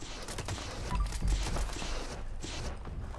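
Rapid bursts of gunfire from another player in Fallout 76, a dense, rumbling rattle of shots at moderate distance lasting the whole moment.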